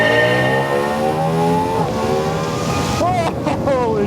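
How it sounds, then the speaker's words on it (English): A Ducati Diavel V4 motorcycle accelerates hard from a launch, its engine loud and close with a rising tone that drops at a gear change and climbs again. "So, the initial kick is kind of like, it wants to do a wheelie."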